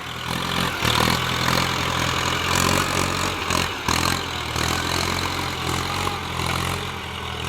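A Ford 5000 tractor engine idles continuously up close, steady and rumbling, with a low mechanical throb and some rattling texture throughout.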